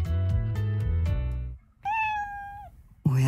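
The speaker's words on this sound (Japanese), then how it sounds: "猫がブランケット代わりにしているようだね。" A cat meows in the video game New Prince of Tennis LET'S GO!! Daily Life, several close, clear, sustained meows with a brief pause between calls, loud and alone.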